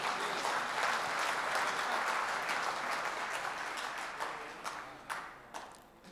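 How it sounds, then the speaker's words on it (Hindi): Applause from an audience at a Hindi-Urdu poetry recitation, a dense, sustained wash of clapping that gradually thins out, leaving a few louder scattered claps near the end. "आप ताली बजाएं ना बजाएं, लेकिन शेर इसका मुस्तहिक था कि ताली बजनी चाहिए थी"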